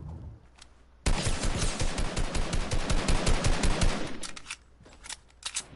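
Fortnite gunfire roars out as a long, loud burst of rapid automatic shots that runs for about three seconds, then trails off into a few scattered single shots, with no talk over it.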